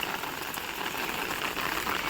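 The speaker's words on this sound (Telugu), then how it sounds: "ఈరోజు మార్నింగ్ నుంచే వర్షం అనేది బాగా పడుతుందనమాట ప్రజెంట్ అయితే ఎక్కువగా పడుతుందండి" Heavy rain falls steadily on a terrace garden, a dense even hiss of drops with no pauses, moderately loud and unbroken throughout.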